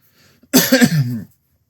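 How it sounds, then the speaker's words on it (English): A single short, rough cough close to the microphone, breaking off into a brief throaty rasp before silence. "Sorry, I cough."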